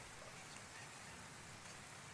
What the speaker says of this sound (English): My audio ambiance just went to a rainy city